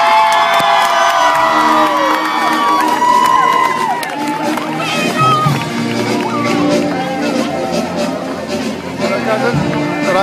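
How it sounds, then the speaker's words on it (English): A large crowd cheers, whoops and shouts continuously at a Relay For Life event, with children's voices prominent and the noise staying loud throughout. "Please give a big round of applause for Team Dunrobin."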